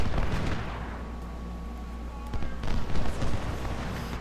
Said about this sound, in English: You really got to keep telling the skirmishers to fire